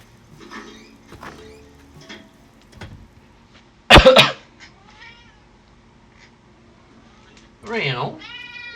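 An Animal Crossing: New Horizons cat villager gives a few short meow-like voice bursts, loudest near the middle and again at the end, over soft game music and chatter.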